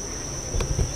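A large honeybee colony hums steadily inside its hive, a dense continuous buzz close by with a few louder swells near the end.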